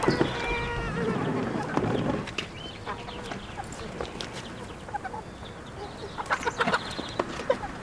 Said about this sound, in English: Say bye-bye to the chickens.